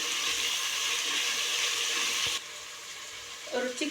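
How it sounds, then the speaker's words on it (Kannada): Tomatoes cook in a pan over a high flame for a vegetable pulav, a loud, continuous sizzle that drops suddenly to a softer hiss, followed by a few utensil clinks. "ಹಿಂಗೆ ಹೈ ಫ್ಲೇಮ್ ಒಳಗೆ ಇಟ್ಕೊಂಡನ ಈಗ ಇದನ್ನು ಬೇಯಿಸ್ಕೊಳ್ಳೋಣ."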